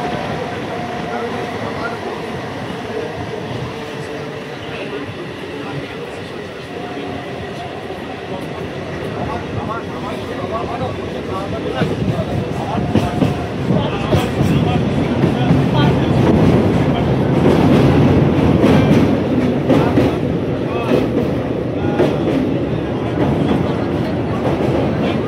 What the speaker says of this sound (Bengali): ট্রেন চলে এসছে কৃষ্ণনগর লোকাল